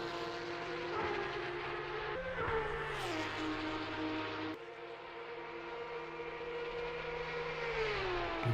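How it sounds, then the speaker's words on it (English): Porsche Cup cars with rear straight-six engines race at Spa in a sim racing game, a loud sustained engine note rising and falling with gear changes and steady throttle, close and continuous without talk. "And we get to hear that wonderful engine of the Porsche Cup cars"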